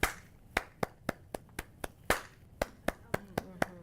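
Hands clap a rhythm in a ukulele lesson, a dozen sharp close claps in an uneven pattern with short gaps and a pause in the middle, faint voice traces underneath.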